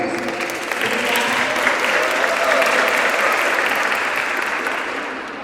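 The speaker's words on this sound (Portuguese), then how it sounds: "Palmas para os nossos participantes." Loud, sustained applause from an audience of women at a tea gathering, clapping for the participants in a thick, even burst that tapers slightly at the close.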